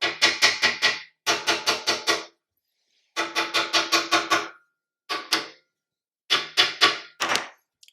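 A tool taps stuck rotor caps on an F French horn, each burst a rapid series of four or five sharp metallic knocks, with the bursts separated by short silent pauses.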